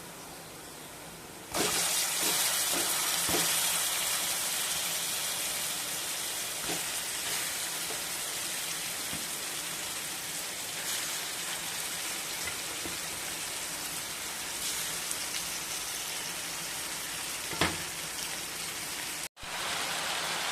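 Marinated fish pieces fry in a pan with a constant, dense, rain-like sizzle, close and even, broken by a few faint clicks.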